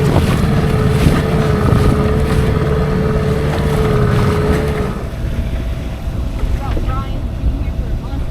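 A sailboat motors off its anchor in gusty wind and current, a steady droning engine with a constant pitched tone under heavy wind rumble for about five seconds, then the motor fades into wind and water noise.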